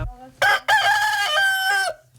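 A rooster crows from the woods in one loud, clear call: a short opening note, a brief break, then a long sustained harmonic crow that trails off, with nothing else heard.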